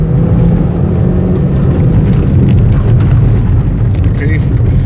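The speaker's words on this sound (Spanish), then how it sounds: "corte de inyección quiere decir que revolucioné demasiado mi motor" A race car engine on a professional circuit howls loudly and steadily at high revs, held against the fuel-injection cut limiter, a dense continuous drone close by that runs throughout.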